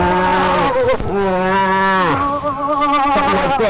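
A human voice imitates a cow moose call for moose hunting, producing a loud, nasal, drawn-out moaning bellow that rises and wavers through several long, close calls.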